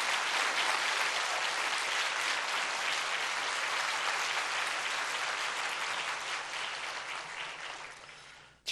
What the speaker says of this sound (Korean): 우리 강사님 나오실 때 축하하는 마음으로 크게 힘찬 박수로 맞이해 주시기를 바랍니다